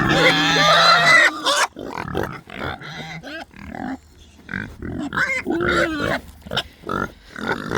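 Little piglets on a farm grunt and oink repeatedly in a busy, close cluster, with short squeals and snuffles overlapping in an uneven rhythm throughout.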